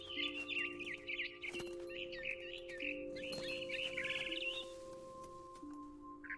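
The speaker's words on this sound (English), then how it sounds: "Where's that bird? There's that bird." A bird in What Remains of Edith Finch chirps in quick repeated bursts of tweets over a low steady hum, with a few clicks and thumps between calls and no talking.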